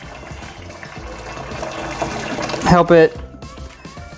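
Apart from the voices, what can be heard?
scalding hot water poured from a kettle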